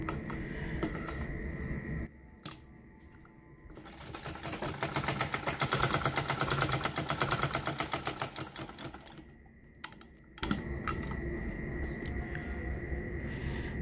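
A domestic sewing machine stitching fabric during a repair for threads bunching up underneath, running in a fast, even mechanical rattle for several seconds, with quieter handling noises before and after.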